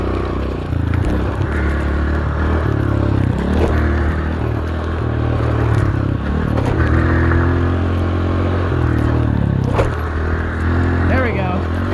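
A dirt bike engine labors through deep sand on a motocross track, its close, steady drone rising and falling with throttle changes and rattles, while the rider talks over it.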